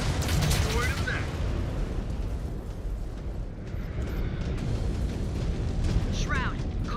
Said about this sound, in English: Destroyed a mech.